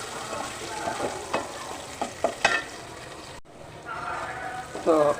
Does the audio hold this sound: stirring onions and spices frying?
yes